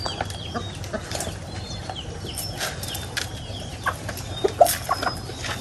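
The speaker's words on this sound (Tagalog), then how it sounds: "Native na manok." Scattered clucks and short calls from native chickens over a steady low outdoor hum, with a couple of sharper squawks near the end.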